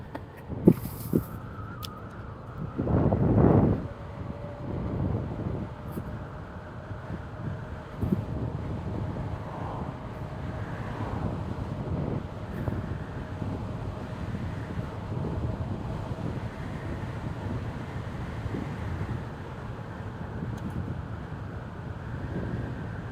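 Steady wind buffeting the microphone, a constant low rumble with a brief louder gust near the start.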